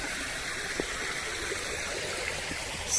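River water rushing steadily over a battered old weir at a former mill sluice, a constant broadband roar heard from close by without talking.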